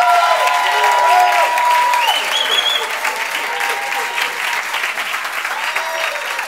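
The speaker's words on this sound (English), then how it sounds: "give him a very big, loud applause" Loud audience applause at a concert, dense steady clapping filling the room for several seconds with cheering voices and a few whistles mixed in, easing slightly toward the end.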